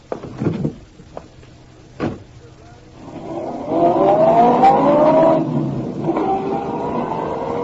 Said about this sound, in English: Dawson climbed back into his car and drove off